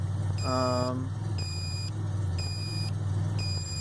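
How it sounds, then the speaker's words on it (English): A DeLorean Otterstat unit in program mode gives evenly spaced electronic beeps about once per second, steady and moderately loud over the running engine's low hum. "the unit will start beeping, signaling program mode"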